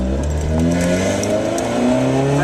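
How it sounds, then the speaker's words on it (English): A Toyota Supra pulls hard in first gear, its engine note loud and sustained as revs climb steadily, close and continuous with no talking. "First gear pull."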